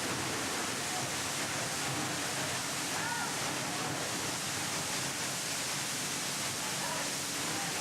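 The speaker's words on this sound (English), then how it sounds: "as mesmerising is the cascading water flow of spectacular waterfalls." Spectacular waterfalls pour down in a steady, dense rush of cascading water, a broad continuous roar heard close and loud with no breaks.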